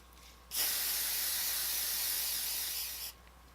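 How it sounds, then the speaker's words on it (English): Hairspray hisses from an aerosol can onto a cosplay wig in one sustained burst of about two and a half seconds, bright and close, starting and stopping sharply in an otherwise quiet room. "Hairspray is pretty legit."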